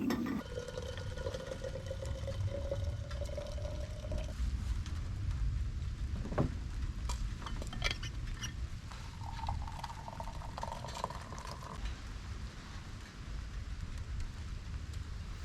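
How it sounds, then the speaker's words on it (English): Rain falls at night near Mt. Fuji in Japan around a parked Subaru Legacy B4, a steady, moderately quiet patter and hiss with a few faint tones drifting underneath. "The rain is getting stronger"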